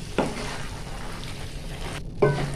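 Boiled dal being stirred into chicken tadka in a pan, a steady soft sizzle with scraping spoon strokes and two brief louder stirs near the start and end.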